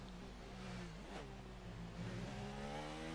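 A Red Bull rally car runs downhill with its engine droning in layered harmonic tones that dip and then climb again, heard from some distance under steady wind-like noise.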